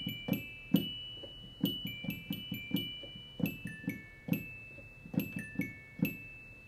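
Glockenspiel keyboard patch playing a song, bright struck bell notes with sharp attacks and ringing decay, a steady melodic sequence at moderate volume with no talking.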